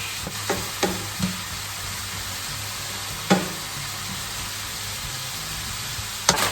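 Cabbage frying in a pan for Polish łazanki, a steady low sizzle with a few sharp clicks and taps of stirring scattered through it; no talking.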